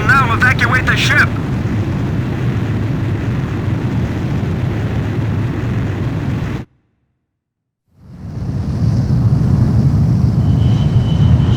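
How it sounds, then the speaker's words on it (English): A jet aircraft launches from a carrier in Ace Combat on PlayStation 2, a loud sustained roaring rush that cuts to silence for a moment and then resumes, with a brief radio voice near the start. "Aircraft launch confirmed."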